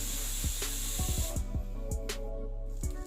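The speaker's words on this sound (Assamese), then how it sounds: "গেছৰ কুকাৰৰ ভাপটো যাব দিব" A pressure cooker on a gas stove vents steam after its whistles while taro leaves are cooked, giving a continuous close hiss broken by short sputtering clicks.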